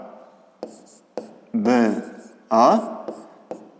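A pen scratches across paper while writing out a geometry solution for a fifth-grade maths exercise, giving several short scratchy strokes between stretches of a person talking.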